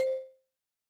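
A phone notification tone: a single bright electronic ding that rings clearly and fades away within half a second, followed by silence, with no speech.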